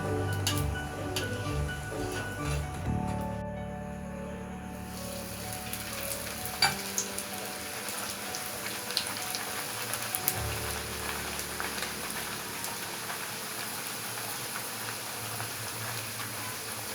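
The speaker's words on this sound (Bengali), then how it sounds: "সুন্দর ফুলে উঠেছে আমার একটা পিঠ ভাজা হয়ে গেছে" Bhatura dough fries in very hot oil with a steady, dense sizzle that carries on for the whole stretch, nearby and with no talking.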